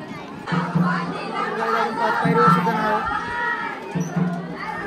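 Large crowd of visitors queuing at a temple on a busy Sunday, a dense steady hubbub of many overlapping voices nearby with occasional louder calls rising from the babble.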